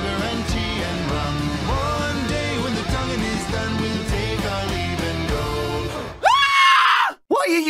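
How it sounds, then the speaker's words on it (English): Animated Roblox Piggy character screams, a loud, high wailing shriek with sharp pitch sweeps, heard near the end after a stretch of busy music and singing. "Why are you screaming?"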